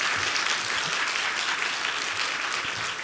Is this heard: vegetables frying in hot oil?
no